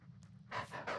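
A dog panting in the Blair Witch video game, quick rhythmic breaths in two short bursts, fairly close and moderately loud over a low background hum.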